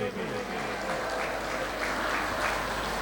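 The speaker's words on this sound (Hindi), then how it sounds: "तो जोरदार ताली बजाएंगे प्रभु के नाम पर" A worship congregation in India claps loudly in unison during a Hindi service, a dense steady patter sustained for about three seconds with a faint voice beneath.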